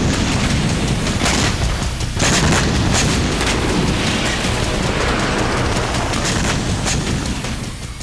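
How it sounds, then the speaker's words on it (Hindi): Explosions from IDF bombardment roll together in a dense, continuous wall of booms and rumbling, loud and unbroken throughout with no voices. "आईडीएफ की भीषण बमबारी में हिजबुल्लाह की लीडरशिप करीब करीब खत्म हो चुकी है।"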